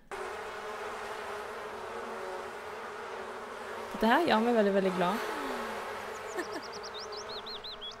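Bees buzz in The Sims 4 farm life game, a steady close droning hum throughout, with someone speaking cheerfully over it midway and chirpy game sounds near the end.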